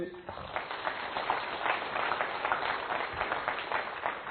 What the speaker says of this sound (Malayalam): ഒന്ന് കൈ കൈയടിച്ച്